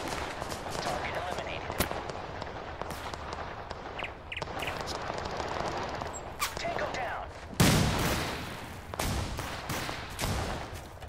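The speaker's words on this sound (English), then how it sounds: "Man, these shotguns are killing me." Shotguns fire in the Total Conflict: Resistance video game: scattered sharp blasts, some near and loud, others farther off, crack through a busy battle while people talk.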